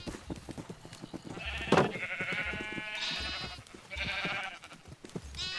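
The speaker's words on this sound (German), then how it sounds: "Was ist denn bei den Schafen los hier?" Several sheep bleating in Minecraft, repeated wavering bleats that come in bursts over soft background clicks, fairly close and clear.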